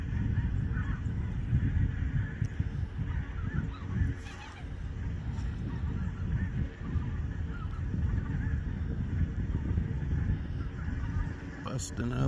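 A flock of geese near a river honks steadily, dense overlapping calls from a moderate distance, with someone talking over the birds.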